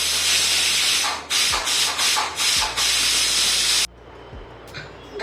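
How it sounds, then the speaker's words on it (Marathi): A pressure cooker releases steam in a loud, hissing rush, broken by several short pauses, then it stops and the room falls quiet. "वाफ आता आपण काढून घेऊ"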